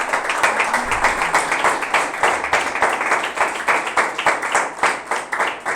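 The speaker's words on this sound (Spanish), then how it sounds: "Puedes darle un aplauso a Dios." A church congregation claps for God during a sermon, a sustained round of many hands with a fairly regular, pulsing rhythm, loud and close with no talking over it.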